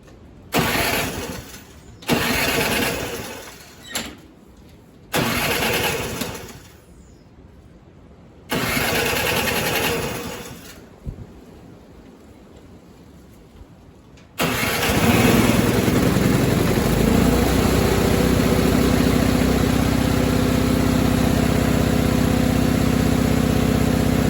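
A small carbureted engine cranks in several short bursts with pauses between, then catches and settles into a steady, loud running drone for the last ten seconds, close by with no talk.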